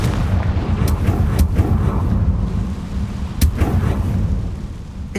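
Confringo explosion spell cast in the video game Hogwarts Legacy, heard as deep rumbling booms with a few sharp cracks over a dense low roar.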